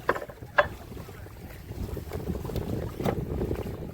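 A strong north wind blows beside a river during a fishing trip. It makes a low, continuous rumble that buffets the microphone and swells in gusts, with a couple of sharp knocks near the start. No voices are heard.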